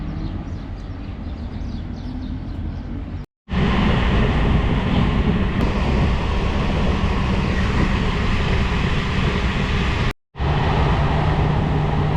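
Steady loud rumble of a train running on rails in Morocco, continuous broadband roar with two brief dropouts, close and enveloping as if heard from inside a carriage.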